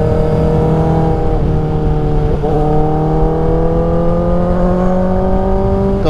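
Loud, close engine drone of a BMW GS 1250 motorcycle on the road, rising steadily in pitch as it accelerates through gears, with a brief dip at each shift and constant wind rush.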